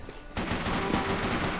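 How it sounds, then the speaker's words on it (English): Desert Eagle pistol fire in the video game Max Payne 3 multiplayer: quiet game ambience, then from about a third of a second a dense, continuous burst of loud gunfire noise fills the rest of the short clip. "Just using the Desert Eagle"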